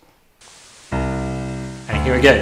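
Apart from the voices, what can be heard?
white noise added to audio by data augmentation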